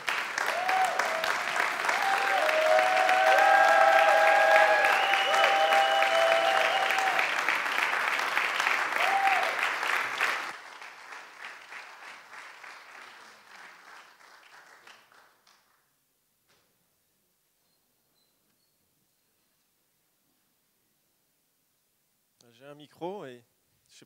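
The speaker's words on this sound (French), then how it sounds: "Est-ce que vous voulez bien vous lever et les applaudir," A standing audience at a hall event claps loudly and steadily for about ten seconds, the applause dying away into silence before a voice briefly returns.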